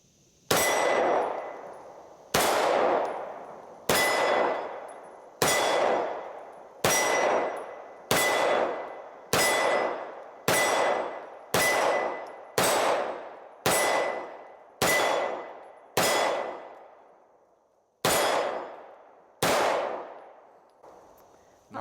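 Gunshots from Kimber Carbon Compact and FN Reflex XL pistols, about fifteen loud sharp reports with ringing decay, fired at a steady, slightly uneven pace with a short pause before the last few shots.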